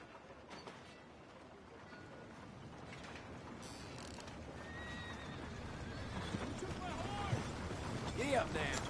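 In Red Dead Redemption 2, a horse whinnies and hooves clop along faintly under a quiet outdoor ambience with soft mechanical clinks.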